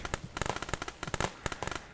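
Repeated sharp blasts of mortar fire in the war game Glory To The Heroes, a rapid irregular series of loud cracking detonations crowding the whole stretch with no voices.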